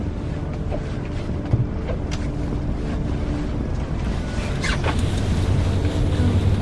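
Twin boat engines idle at slow ahead, a steady low rumble with water wash and occasional creaks that runs unbroken and fairly loud for the whole stretch.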